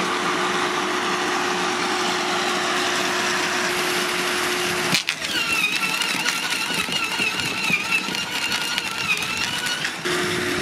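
A Parkside PWH 2800 garden shredder, 2800 W, chips a thick branch near its 42 mm limit. A loud, steady motor drone runs until a sharp jolt, then rougher, fluttering grinding follows as the wood feeds in.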